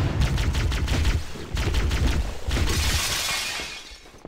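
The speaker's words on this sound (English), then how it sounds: "Thank God I got a plasma rifle right now." A plasma rifle fires in a sci-fi shooter game, loud rapid bursts of crackling, shattering shots in quick succession, a brief gap, then more bursts that fade into a hissing wash.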